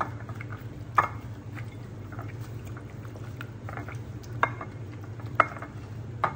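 Chicken wings being mixed by hand in a lemon marinade in a home kitchen, soft wet squelching and stirring with occasional clinks against the bowl over a low steady background hum.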